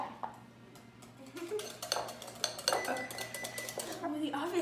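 A spoon scrapes and clinks around a bowl as peanut butter chocolate cupcake batter is stirred in a home kitchen, quiet at first and then a busy, close run of clatters and scrapes.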